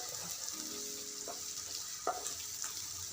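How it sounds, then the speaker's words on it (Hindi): Crushed spices roasting in a pan for paneer bhurji, giving a soft continuous sizzle with a few stirring scrapes and one sharper clack near the end, fairly quiet and free of talk. "इस तरह से हमें अच्छी तरह से इसे भून लेना है जिससे इसका कच्चापन निकल जाए।"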